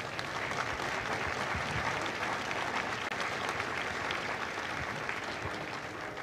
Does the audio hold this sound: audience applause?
yes